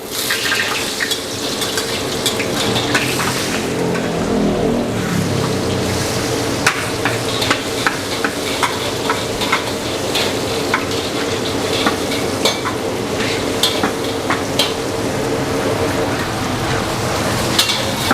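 Garlic fries in oil in a pan for a dried-shrimp dish, with a bright sizzle and frequent spatula clicks and scrapes from stirring over a dense background.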